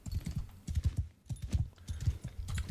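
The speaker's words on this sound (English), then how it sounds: "We are on a horse." Hooves clip-clop rapidly and rhythmically in Mount & Blade 2: Bannerlord as a horse is ridden, a close, steady galloping patter in quick clusters with no speech.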